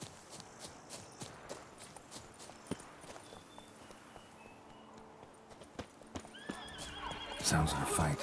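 Hooves of the horse Roach clip-clop in a steady walking rhythm within the game Witcher 3, ending in a loud, close neigh near the finish over game ambience.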